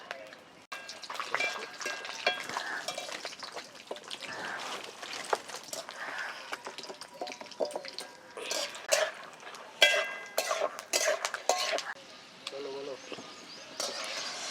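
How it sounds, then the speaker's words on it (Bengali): Peanuts fry in oil in a pan on a clay stove while singara is being made, giving a steady close sizzle broken by frequent metal clinks and scraping from stirring. "এখন এই তেলে এই বাদামগুলো ভেজে নেবো"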